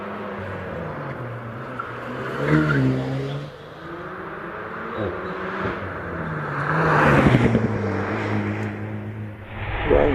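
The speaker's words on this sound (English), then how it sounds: "on the line in the Porsche Cayman 718 GT4 Club Sport" Porsche Cayman 718 GT4 Clubsport race car at a British hillclimb at Prescott, engine revving and shifting through gears as it passes, rising and falling in loudness, with a commentator talking over it.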